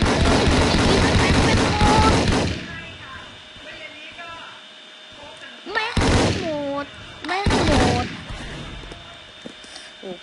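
Gunfire in the Roblox Battlefield video game, with sharp bursts of shots at the start and again in two later volleys, separated by quieter stretches with faint game sounds.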